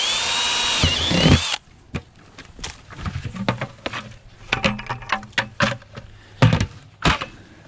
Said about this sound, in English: I'm going to drill the hole in the tree here,